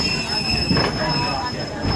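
A heritage passenger train pulls into a station, its wheels squealing steadily on the rails under a continuous rumbling roar, close and loud throughout.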